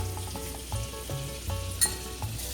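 Ginger garlic paste fries in a pan for a butter paneer curry, a steady close sizzle with a series of soft rhythmic scraping stirs and one sharper clink, and no voice.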